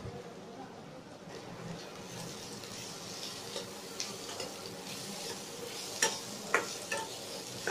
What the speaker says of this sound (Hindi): और इसे मिक्स करके 2 मिनट कुक करेंगे